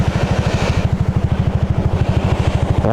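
A Honda Click 125 scooter engine runs close by with a steady, rapid putter of even pulses, loud and alone without talking.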